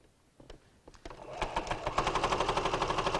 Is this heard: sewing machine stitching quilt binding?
yes